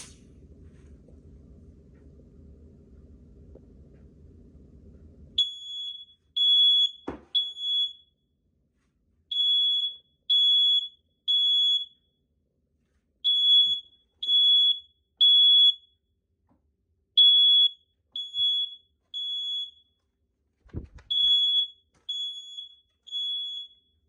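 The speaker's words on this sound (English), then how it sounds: "As you saw, the alarm was able to detect the canned smoke." A First Alert SA710 photoelectric smoke alarm shrills in repeated high-pitched triple beeps after a few seconds of low hiss, with a couple of brief knocks between bursts, set off by canned test smoke.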